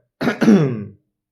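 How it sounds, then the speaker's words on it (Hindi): A single short throat-clearing cough, close and loud, in two quick rasping pushes followed by silence. "सॉरी, बहुत खांसी सी आ रही है"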